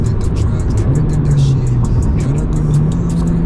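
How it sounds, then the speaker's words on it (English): A modified 10th gen Honda Civic Si with catted downpipe and exhaust, its engine droning steadily and loud from inside the cabin while driving, with someone talking over it. "I like the way it sounds with like catted downpipe and exhaust"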